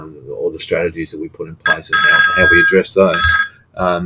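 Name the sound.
telephone ringing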